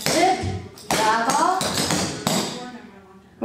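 Tap shoes strike a hard floor in quick rhythmic clusters of heel and toe beats during a competition tap routine, close and crisp, with an instructor's spoken counts running over the steps.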